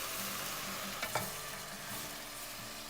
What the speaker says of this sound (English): we're going to add in our mushrooms and saute them with the onions